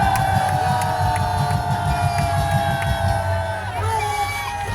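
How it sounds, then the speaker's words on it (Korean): A large outdoor rally crowd in Seoul's Gwanghwamun square cheers and shouts in a dense, steady roar that holds for several seconds, with a voice over a loudspeaker cutting in near the end. "우리는 미국의 트럼프를 위해서 한번 박수와 함성을 질러주는 게 어떻겠습니까"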